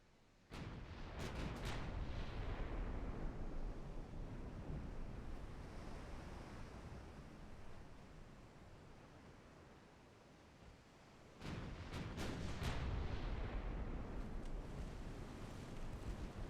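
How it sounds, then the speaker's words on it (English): Naval guns boom out in a warship battle game, two heavy bursts of firing separated by a long rumbling lull like surf and wind, loud and close with no voices. "Now my 4-inch guns are opening fire."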